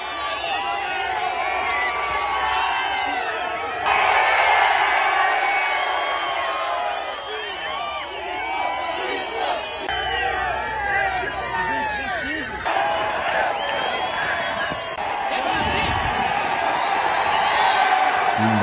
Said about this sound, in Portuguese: com imagem a perder de vista de gente, recebendo o Bolsonaro ao grito de luta